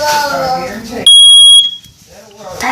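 A smoke detector being tested in a house gives one loud, steady shrill alarm tone for about half a second, with talk before and after it.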